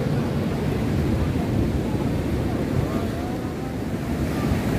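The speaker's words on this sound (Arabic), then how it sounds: "قلت ليه الامواج تاع البحر" Sea waves washing on a shore, a steady rushing surf with heavy wind buffeting the microphone, continuous and fairly loud.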